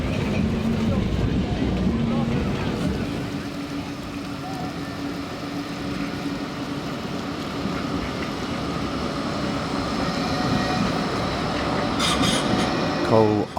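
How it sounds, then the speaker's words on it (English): A Blackpool dual carriage tram passing by at the illuminations, a steady rumbling roll with a faint wheel squeal and rising noise near the end, while a voice talks over it throughout. "Just passing in front of you is one of the dual carriage trams"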